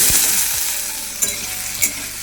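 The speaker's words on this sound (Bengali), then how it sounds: "আলুগুলো আস্তে আস্তে একটু ভাজা হোক" Potatoes fry in hot oil with dried red chillies, cumin and black cumin, a loud close sizzle with a couple of sharp stirring knocks and no voices.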